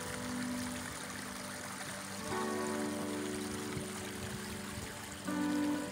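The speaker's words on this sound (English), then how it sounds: "The Flowing Chalice Fountain resembles the Flaming Chalice, symbol of Unitarian Universalism" Outdoor fountain with bubbling sand boils and springs flowing into a chalice-shaped basin at a Unitarian Universalist church, a steady close trickle and splash of running water without any voices.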